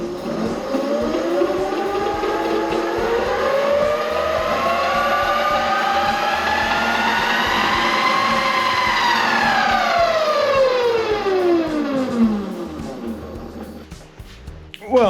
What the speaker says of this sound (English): The rear wheel is free to spin.